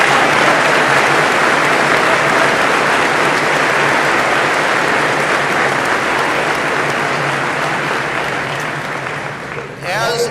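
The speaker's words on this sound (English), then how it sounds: "Would we please join in applauding the President's Medalists?" Applause from a large commencement audience honoring the President's Medalists at a 2011 graduation: a loud, sustained roar of clapping that holds steady for several seconds, then fades, with a voice starting up at the end.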